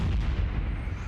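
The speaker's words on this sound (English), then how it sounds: "Grenade out." A grenade goes off in Call of Duty Mobile during a tournament match, a brief loud deep boom with rumbling low end, heard alone.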